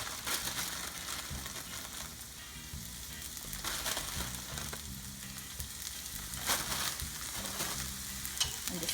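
Broccoli slaw and bean sprouts stir-fry in a pan, a continuous close sizzle broken by repeated scraping and tossing strokes, with no talking.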